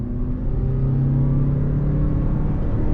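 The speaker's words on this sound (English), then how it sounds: "We're gonna go on throttle in sport mode." A 2022 Toyota RAV4 Hybrid compact SUV accelerating on throttle in sport mode, its engine a steady, close rumble and whir inside the cabin that holds constant without passing traffic.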